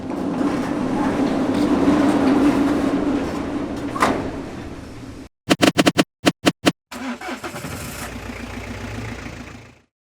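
Ford Falcon XW engine idling with a steady low rumble for about five seconds, then a few short sharp revs or pops, followed by a renewed rough idle that fades out.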